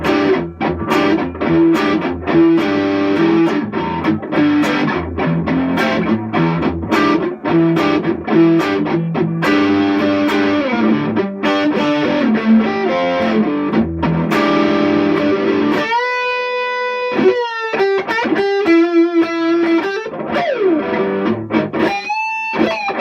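Squier Jaguar electric guitar on its neck pickup through heavy distortion, playing loud, dense chugging riffs and chords for about sixteen seconds, then shifting to sustained bent lead notes and sliding melodic phrases near the end, with no talking.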